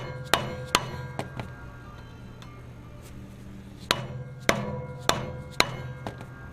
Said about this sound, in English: So I'm going to just use a dead blow hammer. Smack it over until we have a little clearance there.